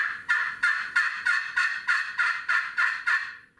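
A friction turkey call worked with a striker in small circles gives a run of about ten even, evenly spaced turkey yelps. Each note is clear and close, the sequence is steady, and there is no talk.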